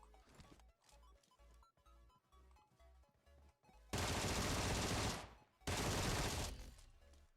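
Video game gunfire from a P90 submachine gun: two long, loud full-auto bursts of roughly a second each, preceded by a steady thumping rhythm with game sounds, no talk.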